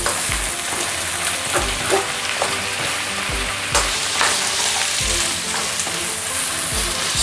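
Chicken and ham frying in a pan for chicken carbonara, a steady, close sizzle with occasional scrapes and stirring knocks throughout, no voices.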